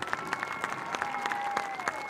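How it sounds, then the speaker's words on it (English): Crowd at a high school football game applauds cheerleaders, a moderate steady patter of clapping from many hands heard at a distance, without talk. "How about a round of applause for our cheerleaders?"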